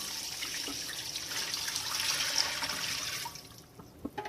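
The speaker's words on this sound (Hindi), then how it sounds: "पानी डालेंगे।" Water poured into a large cooking pot holding four beef trotters for paye, a close steady splashing rush that swells and then stops, followed by a few small knocks.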